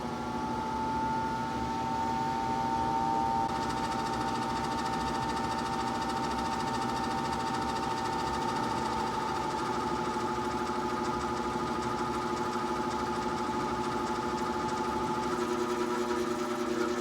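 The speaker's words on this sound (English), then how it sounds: "So you're getting an idea of what my motor sounds like here. Obviously it's not sounding great." A failing Carrier Weathermaker furnace's primary blower motor runs continuously with a steady mechanical hum and a whining rattle, held at an even, moderate level with no voices.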